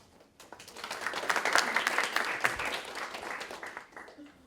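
An audience applauds as a speaker is introduced at a liberal arts making and fabrication talk, a moderate burst of many hands clapping that builds and then slowly tapers off.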